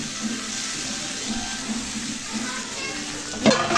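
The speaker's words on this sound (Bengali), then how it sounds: "ভেজে রেখেছিলাম বেগুন আলু, এগুলো দিয়ে যে ভালো করে নেড়ে চেড়ে নিচ্ছি" Fried eggplant and potato stirred into sizzling tomato masala in a pan: a steady close frying hiss with a soft scrape and knock near the end.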